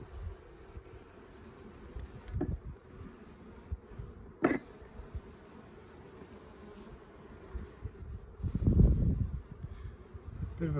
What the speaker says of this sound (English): Got bees emerging there and lots of young bees on the frame